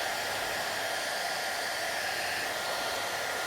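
A hair dryer blows steadily and loudly on a painted squishy toy, a constant broadband rushing hiss with no pauses and no talking.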